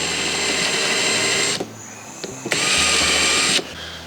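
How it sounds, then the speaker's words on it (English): A power drill cuts a counterbore into a garage wall in two whining bursts, separated by a brief pause, moderately loud and close. "Then I'm just going to follow this up with a counterbore."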